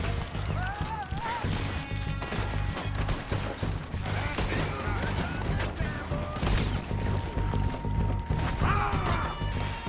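Dense gunfire fills a Red Dead Redemption 2 shootout, with loud, rapid shots and mechanical clatter layered over game music and voices throughout.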